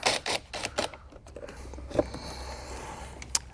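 Small metal clicks and clinks of a 10mm wrench loosening the battery ground clamp on a Jeep Wrangler JK, a few quick close ratcheting taps and scrapes with quiet handling noise between them.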